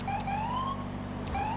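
A police car siren wails loudly in GTA 5 with the LSPDFR mod, its rising tone sweeping up, cutting off and starting again over a steady low engine drone.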